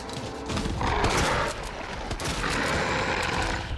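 Dense, close gunfire aimed at exploding poison zombies in the survival horror game Resident Evil 2, a steady barrage of shots with no talking over it.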